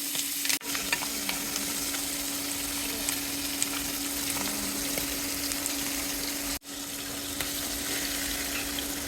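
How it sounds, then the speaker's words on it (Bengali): Fish fry in oil in a pan with a close, continuous sizzle and crackle. The sound is moderately loud and steady, interrupted by two brief dropouts. "এখন ভেজে নিব মাছগুলো"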